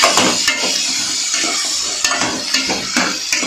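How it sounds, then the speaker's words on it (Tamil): Vegetables sauté in a pan for Tamil masala kulambu, a steady loud sizzle broken by occasional scraping and stirring clatter close by. "2 நிமிஷம் வந்துட்டு நல்லா வதங்கி வரட்டும்"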